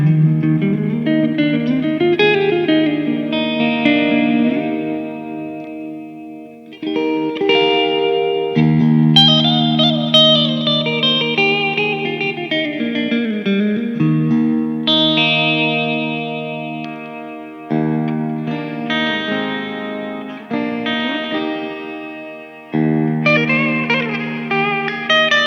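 A Hagstrom MEGIN electric guitar rings out through distortion, chorus and reverb effects, playing sustained chords and melodic bends in several phrases, loud and close with no talking.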